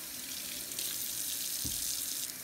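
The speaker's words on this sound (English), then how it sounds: "Fill this pot with water to cover the tops of the potatoes." Tap water runs steadily into a good-sized pot of potatoes for German potato salad, a continuous hiss and splash from close by with a brief deeper gurgle near the end.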